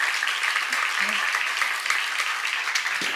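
Sustained applause from a church congregation fills the whole stretch at an even, steady level, with a few faint voices mixed in.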